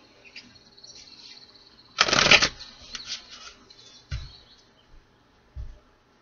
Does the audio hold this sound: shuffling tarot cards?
yes